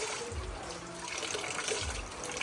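Water streams steadily from a drinking-water filter tap, a continuous close hiss of running water with no voices over it.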